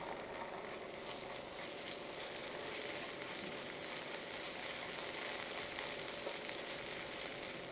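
Ginger garlic paste sautéing in a pan for Chettinad chicken kurma gives a soft, continuous, even sizzle that stays faint and steady throughout with no voices.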